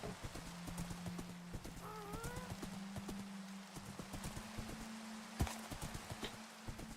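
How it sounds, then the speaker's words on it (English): A horse galloping in the Minecraft video game, its hooves making a quick, steady clip-clop rhythm throughout, with a short whinny partway through and a low synthetic drone underneath, heard faintly. "I should probably use this horse more often."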